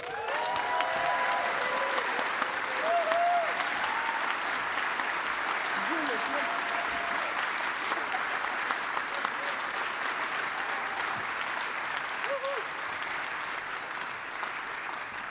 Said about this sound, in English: Please give a big applause to our winner,